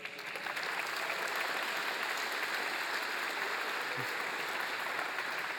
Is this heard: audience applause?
yes